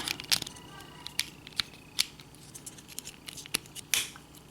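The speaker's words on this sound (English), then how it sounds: "I heard a snap that time." Plastic Transformers Volcanicus toy parts click and snap together in a string of sharp, close clicks, with a few louder snaps among the quieter ones.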